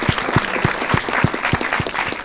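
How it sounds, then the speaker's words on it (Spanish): Studio audience at a televised Aguascalientes talk show on Day of the Dead traditions claps in steady applause, a dense wash of hand claps with a few louder strikes standing out, close and continuous with no talking. "También un aplauso para Raúl por platicar con nosotros"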